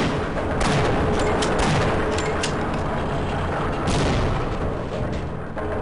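Grenade explosions and gunfire in Half-Life: Opposing Force blast in a dense, loud barrage, several sharp booming bursts stacked over a continuous rumble of shots and blasts, with no talk.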